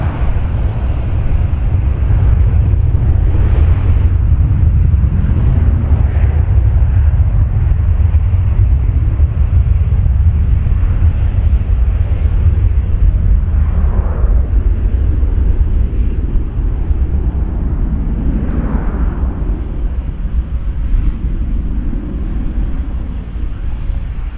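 A Boeing 737 NG jet at Toronto Pearson airport, a loud continuous engine roar and rumble heard at a distance, sustained throughout with a slowly shifting tone.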